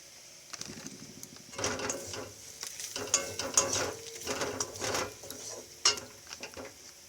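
Chili powder and cumin powder fry in a pan while a spatula stirs them, giving a steady close sizzle broken by repeated scraping and clinking strokes, with no talking.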